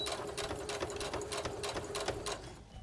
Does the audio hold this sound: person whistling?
no